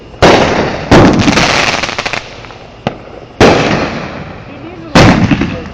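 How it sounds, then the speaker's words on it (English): Fireworks at Fort Bragg explode in four sharp, loud bangs spaced a second or two apart, each followed by crackling and fizzing tails and a short decaying rumble. "Legit Fort Bragg fireworks."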